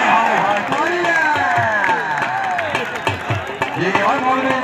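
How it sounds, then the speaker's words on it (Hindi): Crowd at a kabaddi semi-final, loud and close, a dense mix of clapping, shouting and cheering with overlapping voices throughout. "तालियां"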